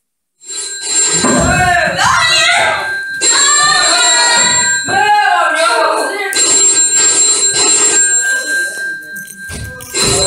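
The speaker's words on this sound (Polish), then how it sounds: "Wtem telefon dzwoni." A telephone rings with repeated electronic trills during a stage performance of a modern Little Red Riding Hood, heard alongside animated voices speaking and singing over it, fairly loud and close.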